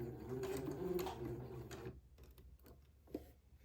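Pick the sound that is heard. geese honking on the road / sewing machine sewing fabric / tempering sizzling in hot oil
sewing machine sewing fabric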